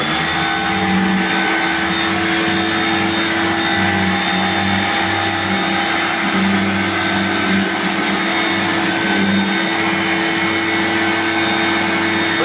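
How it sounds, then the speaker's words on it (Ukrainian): A cleaning apparatus runs, used to wash grime off old wheel rims, producing a loud, steady motorized whine and hum that holds constant for the whole stretch without a break. "Так, Льох, давай запускай апаратик, щоб ми вже дозняли їм одним кадром все це діло."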